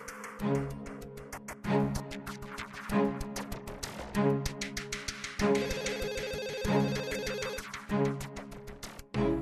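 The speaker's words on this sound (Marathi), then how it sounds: "आई शुभंकरचाच फोन असेल, मी बघते." An electronic telephone ringtone plays a repeating melodic pattern, loud and close, cycling several times without pause.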